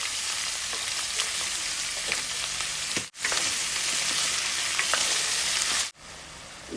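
Chopped vegetables with ginger-garlic paste sizzle and fry in a pan for dal khichdi, a loud continuous crackle broken twice by short pauses, with occasional stirring scrapes.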